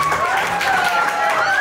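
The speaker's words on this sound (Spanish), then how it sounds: "Así como aplaudimos a Edgar" Applause from a school graduation crowd for a student, heard as continuous clapping with voices mixed in and a loud, steady wash throughout.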